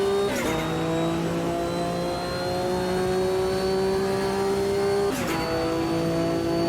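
Race car engines in the sim racing game Automobilista 2, a loud steady high whine with rising pitch as cars go by on the inside, and a sharp gear-shift break near the start and again later.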